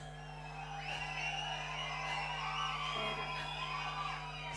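Shrill whistles from the audience at a Kuwait Tamil Sangam Pongal festival stage show, many overlapping over a steady crowd roar and electrical hum, continuing throughout.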